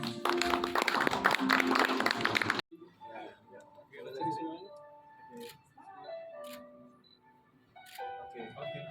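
Wedding guests at a Christian ceremony for Angel Natalia and Fernando break into a dense burst of clapping for about two and a half seconds. It stops abruptly, and quieter voices and scattered sounds follow.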